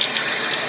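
Hot water is turned on in a tiny home and the water heater starts, giving a steady, close hiss of flowing water with faint mechanical ticking.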